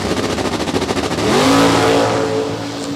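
A naturally aspirated Camaro drag car launches down the strip at Sick Week 2023 with a loud, choppy staged rumble, then a rising high-revving engine howl that holds and fades slightly.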